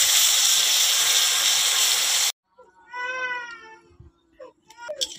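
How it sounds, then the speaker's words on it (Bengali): Water hits a hot pan of fish curry cooked with spices and sizzles in a loud, continuous hiss that cuts off abruptly, followed by a voice. "আমি এবার জলটা ঢেলে দেবো।"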